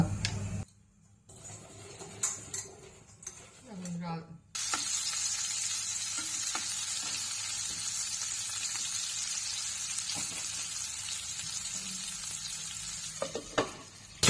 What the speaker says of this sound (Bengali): আমি একটু আলুটা একটু ভেজে নিচ্ছি